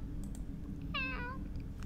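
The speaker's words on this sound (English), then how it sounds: "Let's just get the cat from the cage." A single drawn-out cat meow from the video game Fran Bow rises clearly and moderately faint over a quiet low background hum, with no one talking.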